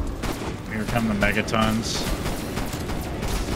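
Rapid gunfire in Call of Duty Cold War Zombies crackles steadily throughout, loud and continuous, while a player speaks over the shooting.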